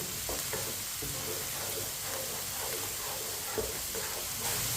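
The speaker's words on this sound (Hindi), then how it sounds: "टमाटर को लाजमी 2-3 मिनट के लिए पकाएं" Tomatoes cook in a pan for an egg curry, giving a soft, continuous sizzle broken by light stirring scrapes and clicks, fairly quiet and with no voices.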